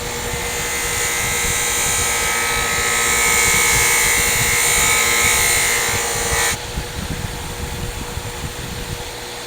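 A loose buffing wheel machine spins against a blade during sharpening, a steady loud whirring grind that holds for several seconds, then cuts off abruptly as the blade lifts away, leaving a quieter motor hum.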